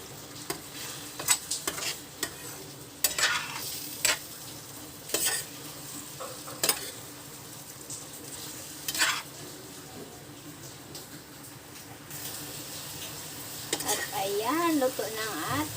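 Bitter gourd (ampalaya) cooks in a pan while being stirred, bursts of spoon scraping and clanks against the pan coming in irregular strokes over a faint background sizzle, close and moderately loud, with a brief voice murmur near the end.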